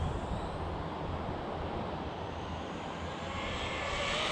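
An Arrma Big Rock V3 RC truck runs at full trigger at a speed-jump spot, its electric motor whining steadily for several seconds over broadband wind rush, the pitch climbing slightly toward the end.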